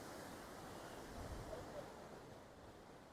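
A large waterfall near Manali roars as a dense, continuous broadband rush, steady and fairly faint at a distance, with a slight swell midway and no clear talking over it.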